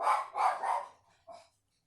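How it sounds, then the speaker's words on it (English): A pet dog barks three quick times in a burst, then gives one softer bark after a short pause, close and fairly loud with no talking over it. "That's my doggy Angel"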